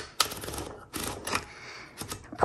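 Mechanical clicking and ratcheting from a 1970s Smith Corona Electra 210 typewriter, in three short bursts as the platen knob is turned, close and fairly loud with no voices.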